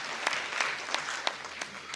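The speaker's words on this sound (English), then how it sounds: "Can we clap hands for them?" Sparse, scattered hand claps at a SADTU Limpopo provincial general council meeting, a thin smattering of individual claps spaced irregularly over a steady room hum, fairly faint and without any talk.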